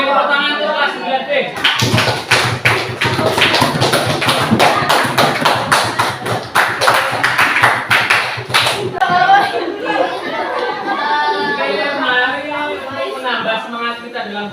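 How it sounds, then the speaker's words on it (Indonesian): A grade 9 class claps together in a classroom, a dense run of sharp, fairly regular claps lasting about seven seconds, with people talking and chatting before and after. "Oke, tepuk tangan untuk kelas 9B."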